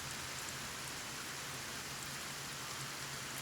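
Steady acid rain from the video game Kenshi falls as a dense, even hiss with no pauses, loud and close with no one talking over it.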